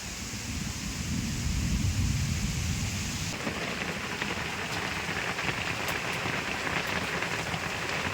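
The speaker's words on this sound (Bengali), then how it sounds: "দেখতেছেন কীরকম বৃষ্টি পড়তেছে।" Heavy rain hammers down in a continuous roar, shifting partway through to a sharper, brighter patter as if drumming on a nearby surface.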